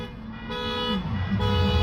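A car alarm blares close by in Guangdong, China, a loud repeating electronic tone cycling through pitch changes over low traffic rumble.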